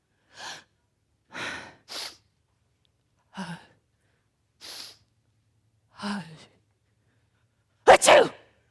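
A voice imitates a series of sneezes, short breathy bursts separated by pauses, ending with a louder, sharper mock sneeze.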